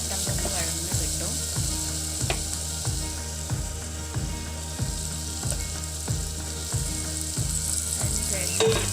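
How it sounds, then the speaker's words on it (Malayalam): Chopped onions sautéing with salt in a pan, a steady close sizzle with rhythmic scraping stirs about every half second and a few sharper clinks, no voices. "അരിഞ്ഞതും കൂടിയിട്ട് നന്നായിട്ടൊന്ന് വഴറ്റി കൊടുക്കാം"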